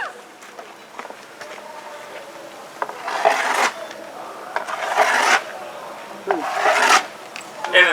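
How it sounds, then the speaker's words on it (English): A moose shoulder blade scrapes up and down a tree trunk as a bull moose call in Alaska. It gives rough, raspy strokes in repeated bursts, close and moderately loud, with faint shuffling between them. "take a shoulder blade from a previous kill and scrape it up and down a tree, like Robin will demonstrate."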